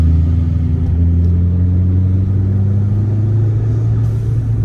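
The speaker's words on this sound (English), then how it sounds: "We got to see the car run, and oh my god, it's very fast." A loud, steady low engine drone with rumbling harmonics holds throughout, a car engine running continuously without pauses or voices.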